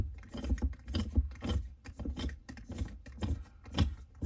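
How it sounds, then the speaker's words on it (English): A jack bracket in a GMC/Chevy truck being snugged down by hand, giving soft repeated rubbing, scraping and ratcheting sounds at close range with no talking. "you hold the jack up and you snug it down so that it doesn't rattle"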